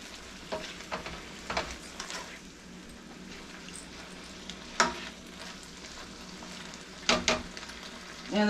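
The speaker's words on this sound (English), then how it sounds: "So, I'm going to let those guys toast. And this is just going to simmer." A pan of Worcestershire wimpies simmering and sizzling for a 1975-style family dinner, a soft steady hiss with scattered louder stirring scrapes and clinks at irregular intervals, no talking.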